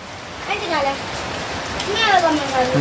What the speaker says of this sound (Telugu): అవును కానీ వర్షంలో ఎందుకు తడుస్తున్నావు